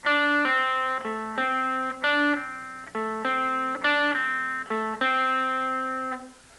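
A clean electric guitar plays a short lead phrase of distinct plucked notes with slides, loud and close, heard alone with no voices.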